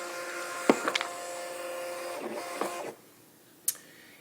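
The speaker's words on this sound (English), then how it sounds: "Close the cover and it'll calibrate for the new media." A Honeywell PC42d thermal label printer calibrates for new media, giving a steady motorised whir with a few clicks and clunks, then stopping near three seconds before one final short click, close and alone.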